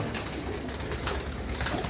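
Pigeons coo softly and repeatedly at a loft housing prize racing birds, a steady low murmur over faint background hiss with no talking.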